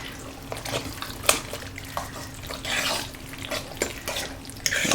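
Chicken pot pie casserole mixture being stirred in a pot, the spoon scraping the bottom and sides in scattered clacks and scuffs under a faint background hum, with no talking.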